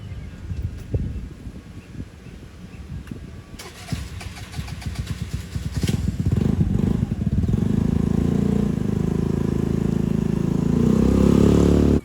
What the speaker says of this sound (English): I finally got the Vespa running